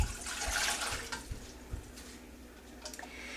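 Water from a measuring cup pours into a saucepan on a stove, a short splashing gush that fades into a few faint drips and trickles.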